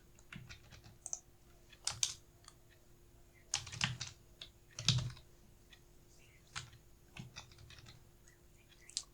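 Typing on a computer keyboard during coding work: quiet, close key clicks in irregular bursts and pauses, with a few louder keystrokes standing out against a soft steady hum and no speech.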